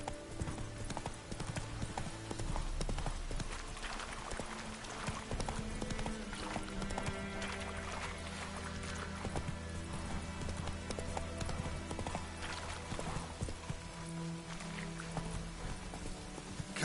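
Roach, a horse in The Witcher 3: Wild Hunt on PS5, gallops with continuous rapid hoofbeats, moderately loud amid soft in-game ambience and a faint rain-like patter.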